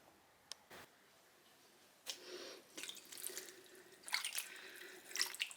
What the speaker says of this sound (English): And now we're going to pop it into the dye bath.